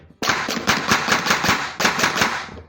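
Airsoft MP40 AGM electric gun on a 20C battery fires in semi-auto, close and loud: two runs of rapid, evenly spaced mechanical shots, the first about a second and a half long, then a brief pause and a shorter second run.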